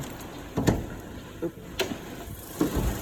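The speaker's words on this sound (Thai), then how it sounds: "รถก็สตาร์ท เรียบร้อยแล้วนะคะเดี๋ยวพา f ีท่านเลยนะพาชม เสียงห้องเครื่องกันนะคะ" A 2018 Toyota Altis 1.8V's 1.8-litre engine idles in the engine bay with a steady low rumble, broken by a few sharp mechanical clicks and knocks.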